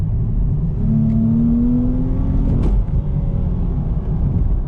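A 2019 Dodge Charger GT with a 300-horsepower V6 engine accelerating hard, a loud, steady engine note rising in pitch over several seconds with road rumble underneath, heard up close from inside the car.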